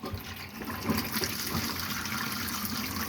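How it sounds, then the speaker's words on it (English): Water runs steadily from the tap into the vanity sink of a Bailey Phoenix 640 caravan, a close, even hiss and splash with no talking. "hot water's coming through there"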